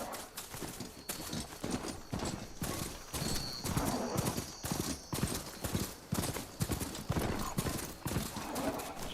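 A mount's hooves gallop in the game Horizon Forbidden West, a rapid, rhythmic clip-clop that stays steady and fairly close throughout, with faint ambient game sounds behind it.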